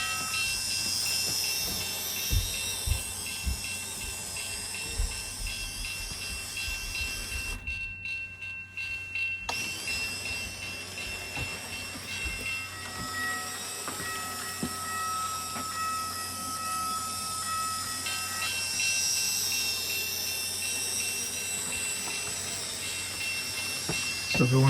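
A Märklin Z-scale model train runs on a layout with a steady hiss and rolling hum, brief clicks near the start and a short drop to near quiet partway through, no voices.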